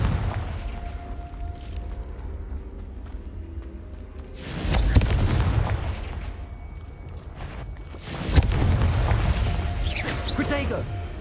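Confringo fire-blast spells exploding in Hogwarts Legacy, two loud booming blasts a few seconds apart, each followed by a rumbling crackle that trails off, over steady game ambience and a voice talking.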